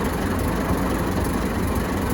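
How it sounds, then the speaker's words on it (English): The original stock engine of a 1924 Dodge car running steadily at idle, a continuous low rumbling chug with an even, unbroken drone throughout. "1924 Dodge. Pretty much all stock. Powertrain, everything, and engine, and just sounds awesome. Runs good."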